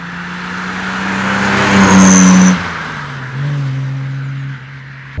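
A 1962 Jaguar E-Type Series 1 3.8 Roadster drives past close by, its engine note climbing and swelling before easing off, then rising again briefly with a steady mechanical tone.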